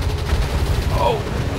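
Aircraft machine gun fire in the War Thunder video game during an aerial dogfight, a dense continuous burst of rapid gunfire filling the short moment at steady loudness.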